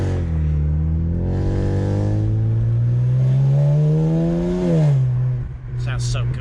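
A 600hp BMW 335i engine pulls hard from inside the car, its deep tone climbing steadily through a long rev before easing off, then settling into a lower drone with faint chirps at the end.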